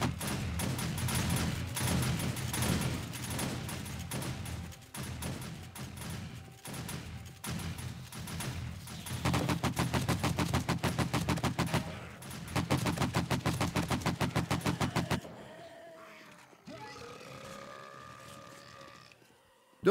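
Rapid gunfire from the survival zombie game 7 Days to Die during a horde night, dense bursts of automatic shots and fusillades over about fifteen seconds, loud and close, then a quieter stretch of game noise.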